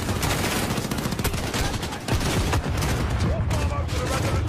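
Heavy, sustained gunfire in Call of Duty: Modern Warfare (2019) during an assault on a residence, a dense, overlapping barrage of automatic shots with booming impacts, loud and continuous, with voices talking underneath.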